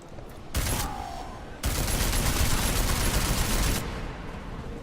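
Heavy gunfire in Deus Ex: Mankind Divided, two loud sustained bursts of rapid automatic shots with a brief gap between them, close and dense, then a sudden stop.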